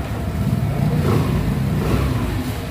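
Suzuki Burgman 2021 scooter engine revving steadily under throttle, a close, loud continuous drone with a slight swell in the middle and no pauses.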